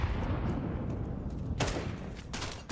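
A sniper rifle fires in Counter-Strike, two sharp cracks about three-quarters of a second apart over steady game background noise.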